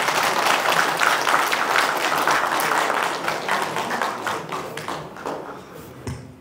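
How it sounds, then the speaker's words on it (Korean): An audience breaks into warm applause to welcome foundation chairman Moon Chung-in, dense clapping at first that gradually thins and fades toward a few scattered claps. "여러분들 큰 박수로 우리 문정인 이사장님 맞이해 주시기 바랍니다."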